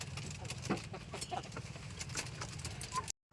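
Broiler chickens on a small farm cluck softly and intermittently at close range, quiet against faint background noise before the sound cuts out.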